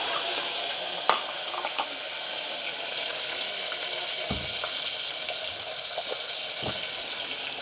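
Cluster beans fried in oil tempered with asafoetida in a home kitchen, giving a steady close sizzle and hiss with a few stirring clinks and knocks throughout.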